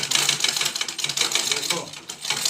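A household sewing machine stitching in short stop-start runs, a rapid dense mechanical clatter close by, heard with faint voices underneath.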